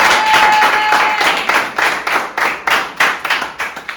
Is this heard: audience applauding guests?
yes